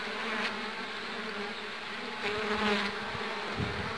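Honeybees inside a hive hum in a dense, continuous drone, fairly quiet and even, with a few faint knocks and rustles.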